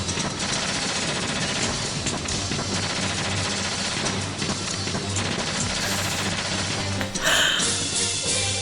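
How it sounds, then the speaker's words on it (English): Dense, relentless gunfire from a Metal Gear video game trailer, rapid automatic bursts layered into a continuous loud barrage that fills the whole stretch without pause. "I love how the ending's just him spamming a lot of gunfire."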